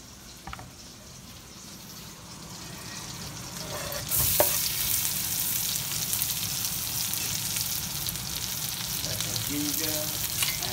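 Salt and pepper lobsters sautéing in a pan give off a steady sizzle that swells louder after a sharp clatter partway through, with faint stirring scrapes near the end and no voices.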